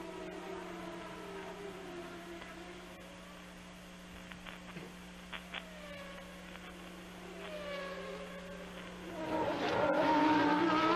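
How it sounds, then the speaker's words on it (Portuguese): Formula One race cars at the British Grand Prix roar past one after another, their engine notes sweeping up and down and swelling loudly toward the end, with steady crowd and circuit noise behind. "E o Mansell tá ali meio atrapalhado para fazer a ultrapassagem do Martini."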